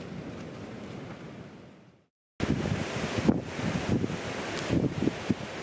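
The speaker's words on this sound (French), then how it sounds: "Un vent du sud." A southerly wind sweeps across open tundra and buffets the microphone in a steady, loud roar that cuts out briefly before returning with gusty surges, with no voices.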